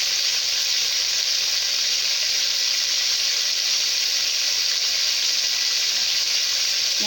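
Food sautéing in butter in a pan, a steady close sizzle and hiss that holds evenly throughout with no talking.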